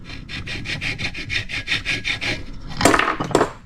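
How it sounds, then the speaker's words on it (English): Flat file stroked across motorcycle engine cases of a 2003 Yamaha YZ450F to remove burrs, about a dozen close, even rasping strokes in steady rhythm, followed by a couple of sharper knocks. "If there is, just take a nice flat file."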